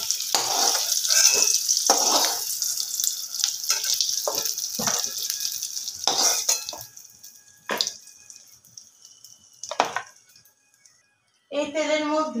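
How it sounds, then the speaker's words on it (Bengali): Potatoes fried red in hot oil crackle in the pan, with spoon scrapes and clatter as they are lifted out, followed by a near-silent pause and then a fresh burst of sizzling. "আলুগুলো লাল করে ভাজা হয়ে গেছে, তো আলুগুলো তুলে নেব।"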